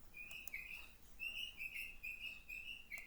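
Birds sing in a garden in a continuous run of bright chirps and warbling phrases, fairly close and loud, with no speech over them.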